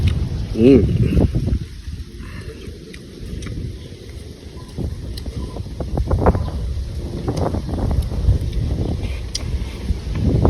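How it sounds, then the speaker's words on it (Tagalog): Strong wind buffets the microphone in continuous low rumbling gusts, with brief voices near the start. "Talagang hangin, malakas."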